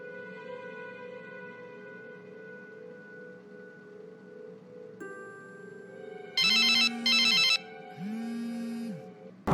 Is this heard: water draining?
no